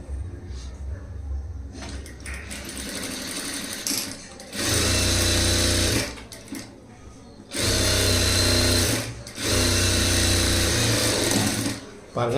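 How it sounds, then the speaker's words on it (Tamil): A sewing machine stitches a line on blouse fabric in three loud, steady whirring bursts, with a voice talking in the pauses between them. "அதுக்கு மேலே ஒரு லைன் தையலாக போட்டுடலாம்"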